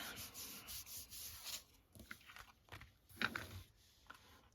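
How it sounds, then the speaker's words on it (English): Paper die-cut frame being rubbed down by hand, a quiet, soft rubbing and scraping that comes in irregular strokes over a few seconds with no talk. "Rub it down on the other side."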